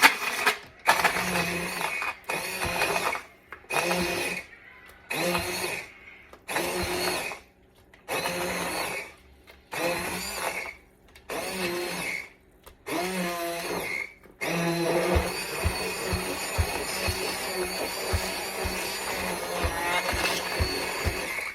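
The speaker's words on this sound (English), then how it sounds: "with my blender, I'm gonna blend them a bit" Hand blender whirring in repeated short bursts with brief pauses, then running continuously, a buzzing motor churning through thick Caldo Verde, a Portuguese greens soup.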